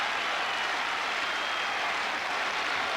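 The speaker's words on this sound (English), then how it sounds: "And the crowd cheering for a fifth set." A 1989 Roland Garros French Open men's tennis crowd, at the Chang versus Edberg match, cheers and applauds as the match heads toward a fifth set, a dense, steady roar of clapping filling the whole stretch.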